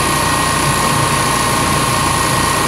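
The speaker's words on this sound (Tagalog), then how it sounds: "ang linis ng tunog ng induction motor" A loud, steady induction motor hum in Y (star) connection runs throughout, smooth and constant with a whining high tone and faint mechanical rattle underneath.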